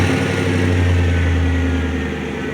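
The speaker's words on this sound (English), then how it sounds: "we're gonna go ahead and fire it up for the first time" A Chevy Silverado 1500 fitted with a Cherry Bomb Vortex muffler rumbles close by with a steady deep exhaust tone, holding level before easing slightly at the end.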